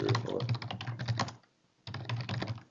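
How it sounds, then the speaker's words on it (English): Rapid typing on a computer keyboard, a dense run of close clicks that pauses for about half a second and then resumes. "Now we're going to start typing the top of page WD74."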